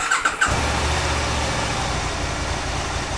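An engine that has sat unused for about three weeks, with sticking throttle cables, cranks briefly and catches, then settles into a steady, rough low idle close by, heard alone without talk.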